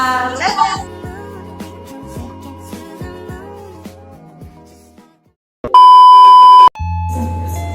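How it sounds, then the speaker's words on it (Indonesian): A mobile phone goes off after a class presentation ends, sounding a loud, steady electronic ringtone tone for about a second, then a lower buzzing continuation; earlier, people talk in the room. "HP siapa itu?"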